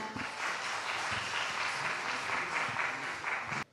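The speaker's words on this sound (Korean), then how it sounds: "두 분을 뜨거운 박수로 환영해 주시기 바랍니다" Sustained applause from a conference audience at an HR technology leaders' event in Korea, welcoming two speakers, steady moderate clapping that cuts off abruptly near the end.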